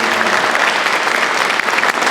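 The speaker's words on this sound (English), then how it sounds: "So you got to give a round of applause to Marge." A crowd at a South High School open house claps loudly for a woman named Marge, a close, full and continuous burst of many hands at a steady level throughout.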